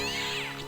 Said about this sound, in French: Putain, c'est un chat.